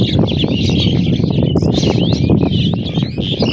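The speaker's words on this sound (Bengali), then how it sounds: "পাখিগুলো ডাকছে গাছের ডালে বসে" Birds perched on tree branches keep up a steady chirping chatter, many close calls overlapping densely above a constant low background hum.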